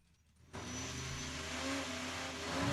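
Drag racing car at Saskatchewan International Raceway during a Heads Up Havoc event, its engine bursting in at half a second into a loud, sustained roar that builds toward the end, with no talk.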